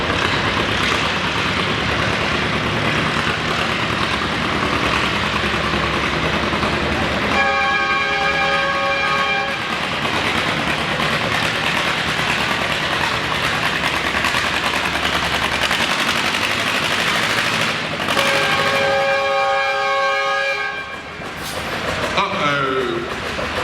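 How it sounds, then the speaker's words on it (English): Classic tractor roaring at full power during a tractor pull bracket, loud continuous rough engine din with rattling, bell-like harmonic stretches and a crowd and announcer talking over it. "let's see what happens when he goes tractor pulling"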